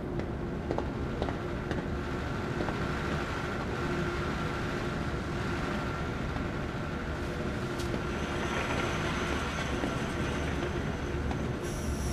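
A train in the video game Zoochosis rolls along steadily, a continuous rumbling rail clatter with occasional wheel squeals, loud and unbroken for the whole stretch with no talking.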